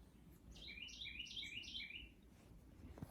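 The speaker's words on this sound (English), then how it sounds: "Pretty sure that's a cardinal." A cardinal singing outdoors, a quick series of about five bright, slurred whistled notes repeated in a rhythmic phrase, fairly faint and distant over low background noise.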